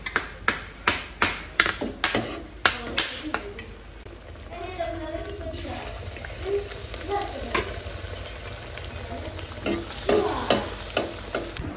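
Chilli and aubergine fritters in gram-flour batter fry in bubbling oil, starting with a quick run of sharp crackling pops before settling into a steady close hiss and sputter, with a faint voice in the background.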